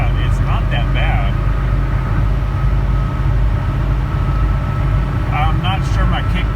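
A 1985 Mercedes 300D diesel car accelerates on the road. Its engine drones steadily inside the cabin with a constant low rumble and road noise, while someone talks over it.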